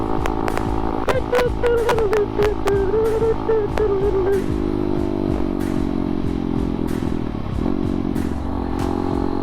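ADV Moto 190R motorcycle is ridden with a steady, close engine drone that shifts pitch as it revs and eases, with rattling clatter and wind noise throughout.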